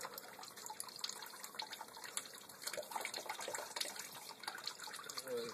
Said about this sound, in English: Let her drain out a little bit.